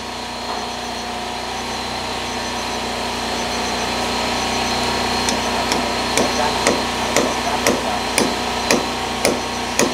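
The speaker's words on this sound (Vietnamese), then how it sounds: "Kèo khoan vào cho chắc chắn." Roof trusses being drilled and screwed together on a house construction site, a steady motor hum running throughout, then a quick run of sharp, evenly spaced impacts through the second half.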